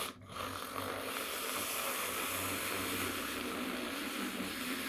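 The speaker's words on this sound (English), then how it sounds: "I'm going to start frothing my milk." An electric milk frother whisks milk into foam, producing a steady close whirring buzz with a bubbling, churning texture that runs unbroken for several seconds.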